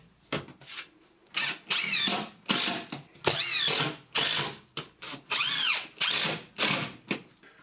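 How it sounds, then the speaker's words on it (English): A power drill drives floor-tight screws down through creaky floorboards in about nine loud, close bursts of whirring, each rising in pitch, separated by short pauses. "take the floor tight screws and drive those in exactly where the crosses are"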